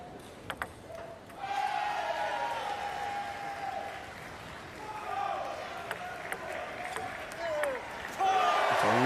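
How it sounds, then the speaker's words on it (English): Crowd at a Paris 2024 para table tennis standing doubles medal match cheering and applauding, a broad sustained roar that swells and fades, with ball clicks and whistles cutting through, plus a louder burst at the end. "The crowd loves it. You can hear them, they're very excited."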